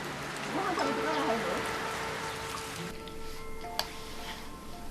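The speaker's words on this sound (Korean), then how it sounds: "고즈넉한 옛집에 겨울 비가 운치를 더합니다" Winter rain falls steadily on an old house, giving a soft, continuous patter with a few close drips. A faint tonal sound runs underneath.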